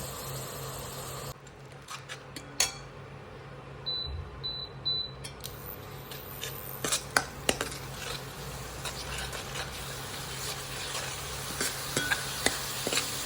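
Ground raw masala paste roasting in oil for a dhaba-style whole masoor curry, crackling and sizzling steadily while a spoon scrapes and knocks against the pan at irregular intervals; a few brief electronic beeps sound early on.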